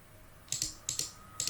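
Computer keyboard typing during photo retouching in Photoshop: three quick pairs of crisp key clicks in an even rhythm, close and fairly quiet over a low background hum.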